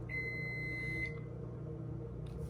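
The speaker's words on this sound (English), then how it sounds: "Thank you, timer." A kitchen timer beeps in a steady electronic tone for about a second over a low background hum, then gives another short beep near the end.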